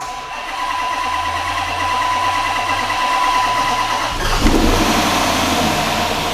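A Hemi V8 engine cranks and fires, then settles into a steady, loud run with a slight rattle, a brief rev surge near the end over the constant mechanical drone.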